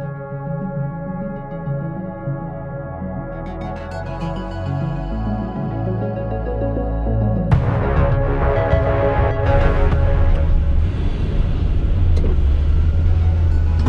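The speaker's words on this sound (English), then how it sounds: "I'm going to drag race it against this Ford GT40, which frankly sounds absolutely terrifying" A Ford GT40 and a 2005 Ford GT run a drag race, with a deep engine rumble building steadily before a sudden loud surge at full throttle as the cars launch. The roar stays loud and close to the end, with no talking.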